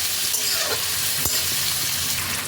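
Chopped ginger frying in hot oil gives a loud, steady sizzle and crackle up close, broken near the middle by one brief stir or scrape.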